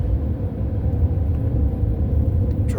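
Motorcycles climbing Colorado 72 Coal Creek Road through the mountains pass as a steady low engine rumble, continuous and moderately loud with no talk.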